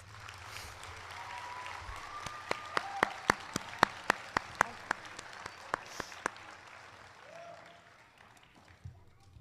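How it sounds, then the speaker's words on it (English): An audience at a nursing graduation for licensed vocational nurses bursts into applause, a spread of sharp individual claps over a steady patter that thins out and fades toward the end. "Let's give them a round of applause."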